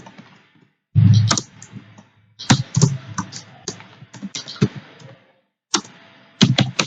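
Bursts of clicky typing on a computer keyboard while entering JavaScript code, close and crisp key taps in uneven clusters separated by short pauses.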